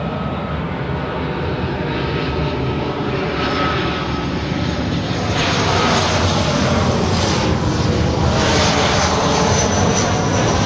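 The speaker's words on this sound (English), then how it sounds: "Southwest 1809, RNAV to Del Rey, that is, runway 24 left, clear for takeoff." Southwest Airlines jet taking off from runway 24 left at LAX, a loud, steady engine roar that swells slightly partway through and holds close and continuous, with no talk.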